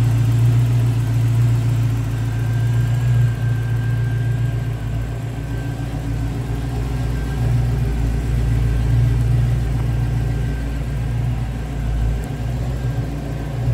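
A TPI 350 V8 idles steadily under the hood of a 1934 Dodge Cabriolet, a loud, close, continuous low rumble with an even hum and no talk over it.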